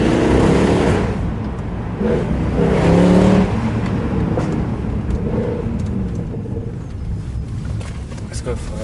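Mercedes W204 C63 pulling hard, a loud close engine roar that rises and falls through the revs with speech over it.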